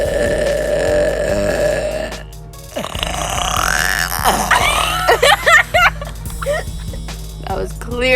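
A girl lets out a long, deep burp up close, followed by a short pause and then laughter and chatter, with a few quick grunting bursts later on.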